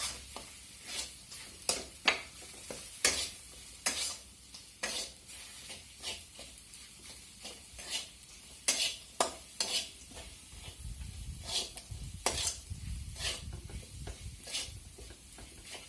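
Cluster beans stir-fry with garlic, green chili and peanuts in a quiet, low sizzle, broken by frequent sharp clinks and scrapes of a spoon against the pan in an uneven rhythm.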